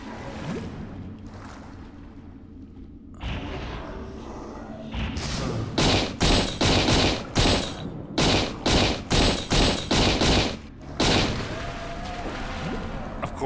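Rifle fire underwater in the video game System Shock 2, a quiet murky stretch followed by a rapid string of loud, evenly spaced muffled bursts, then a single final burst.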